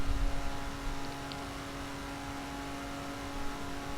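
Steady engine drone of a BMW Z4 sDrive35is held near the rev limiter while racing in The Crew, a constant whirring tone with little variation.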